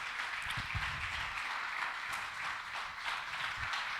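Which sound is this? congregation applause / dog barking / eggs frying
congregation applause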